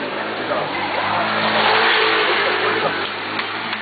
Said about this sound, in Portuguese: O modo de escapamento é mais alto